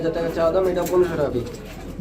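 Red checker racing pigeons coo in low, rolling bursts, close by, with a voice talking over them.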